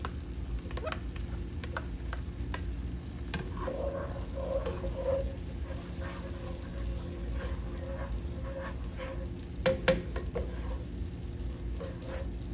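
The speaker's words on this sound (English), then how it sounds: "So now that the butter has melted, I'm going to add the 2 tablespoons of minced garlic." Two tablespoons of minced garlic sauté in melted butter, a quiet, steady sizzle with light scattered ticks and a few soft spoon clinks.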